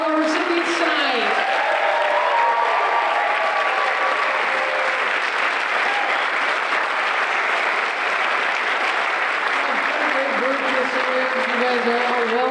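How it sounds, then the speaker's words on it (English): A community art awards audience gives recipients a loud, sustained round of applause. Dense clapping fills the whole stretch evenly, with a few voices and whoops rising over it. "let's give a round of applause to all of our recipients tonight"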